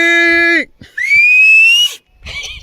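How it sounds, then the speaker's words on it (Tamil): A person whistles outdoors in Kerala: one sustained, slightly rising whistle follows a louder tonal shout, then a short, noisier burst ends it. Each sound is separated by a brief pause. "விசில் அடிக்கிறாங்க யாரோ"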